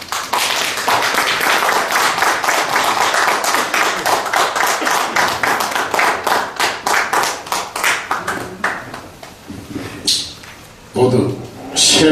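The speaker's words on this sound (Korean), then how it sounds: "우리 나오실 때 박수로 환영해 주시길 바랍니다" An audience claps to welcome a speaker at a national prayer breakfast security lecture, a sustained burst of many hands that thins into scattered, separate claps, with voices coming in near the end.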